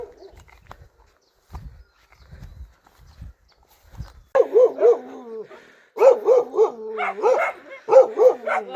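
Two dogs bark together in a hill village, first a few faint low sounds, then a burst of close, loud, repeated barks in quick rhythmic volleys overlapping each other.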